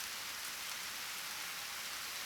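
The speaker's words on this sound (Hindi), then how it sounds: "काफी तेज बारिश हो रही है।" Dense, steady downpour hisses without a break, a constant wash of heavy rain and nothing else.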